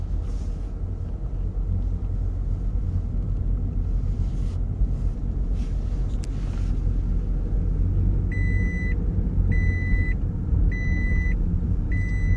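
A Toyota Lexus with a rear left ABS wheel sensor fault driving on a road, giving a steady low engine and road rumble with wind noise, and a repeating electronic beep near the end.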